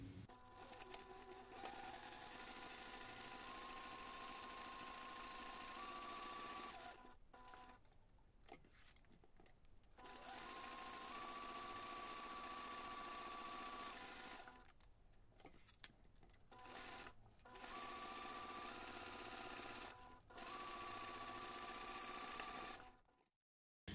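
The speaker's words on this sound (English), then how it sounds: "you can take this to the machine and sew your seams" A sewing machine runs steadily, stitching seams in fabric at a corner, in three long bursts separated by short pauses with small clicks of repositioning. It is fairly close with no talking.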